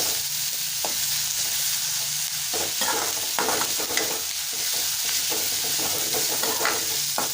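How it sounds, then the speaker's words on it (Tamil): Tomato kurma masala sautéing in a pan, a steady loud sizzle and frying hiss with repeated stirring scrapes and knocks of the spoon, close and continuous with no talking. "நல்லா கொத்தி விட்டு நல்லா வதக்கிக்கணும்."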